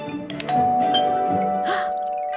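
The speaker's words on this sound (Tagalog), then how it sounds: "Doorbell?" A doorbell chimes once with a bright, ringing tone that lingers and decays over a couple of seconds, following a few soft knocks or taps.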